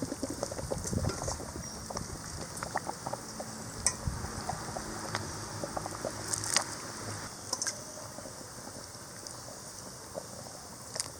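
A pot of anchovy fish curry boils over an outdoor village fire, a soft continuous bubbling with faint pops and occasional clinks, quiet and without speech.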